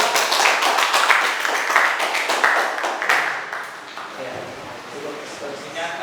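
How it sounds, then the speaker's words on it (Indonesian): A classroom group in Indonesia claps together after a student presentation, steady brisk applause that softens toward the end, with voices talking over it. "Tepuk tangan, aplaus."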